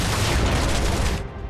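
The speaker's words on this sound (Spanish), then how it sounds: "Muy, muy bueno ese disparo, ¿eh?" A Focused Shot gun attack in the Final Fantasy VII demo bursts out as a loud, dense crackling volley of gunfire lasting over a second before cutting off abruptly, with no voices.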